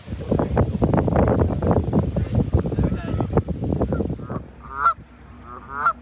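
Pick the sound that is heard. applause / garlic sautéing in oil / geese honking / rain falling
geese honking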